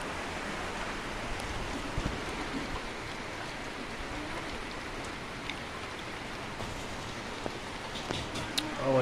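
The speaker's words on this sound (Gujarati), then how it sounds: "કારણ કે વરસાદ ચાલુ થઈ ગયો" Steady rain patters down with a soft, even hiss, and a few sharper drops tap nearby surfaces.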